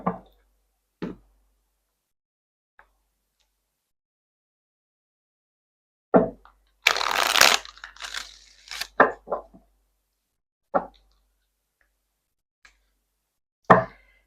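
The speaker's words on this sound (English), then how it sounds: "I go ahead and shuffle the cards" Tarot cards shuffled in a quiet room: sparse single taps and flicks separated by silence, with one longer riffling burst in the middle followed by a few more soft clicks.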